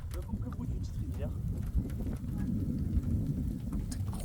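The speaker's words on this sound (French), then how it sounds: "ça fait des petites vagues de pluie." Steady rain shower falling during a violent August thunderstorm in the Drôme, a dense continuous patter with faint low rumbles, while people talk quietly in French underneath.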